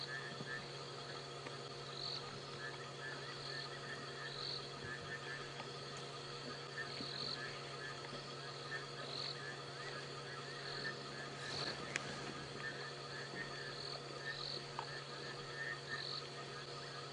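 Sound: frogs calling at night in the African bush

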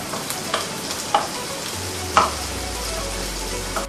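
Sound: rabbit pieces browning in butter in a pan

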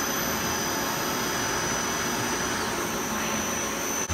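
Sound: Nakamura TW-10 CNC multi-axis turning machine running a program

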